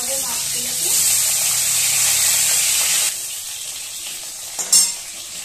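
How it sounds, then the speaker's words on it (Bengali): Katla fish pieces sizzle steadily in hot oil in a pan, a loud bright hiss that drops in level midway, followed by a brief clatter near the end as the pan is handled. "তো একই রকম ভাবে সমস্ত মাছগুলোই আমি ভেজে নেব।"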